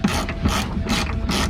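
Four steady strokes of a hand ratchet sound up close as a bolt is tightened on a 2009-2017 Freightliner Cascadia truck's aftermarket front bumper, each a loud rasping click burst.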